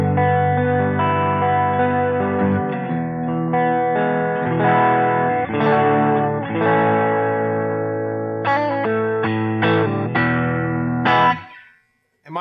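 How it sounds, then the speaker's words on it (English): Electric guitar played through a MoVall Busy Bee preamp pedal set for light breakup, with no reverb or delay, giving sustained overdriven chords and notes that ring steadily at close range before cutting off abruptly at the end. "I just like to use it just with a little bit of"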